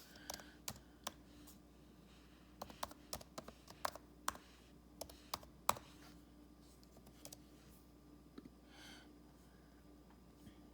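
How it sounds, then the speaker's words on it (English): Keys tapped on a computer keyboard in quiet bursts, quick irregular clicks clustered in short runs with pauses between, close but soft over a faint steady hum, no speech. "now I can type in this"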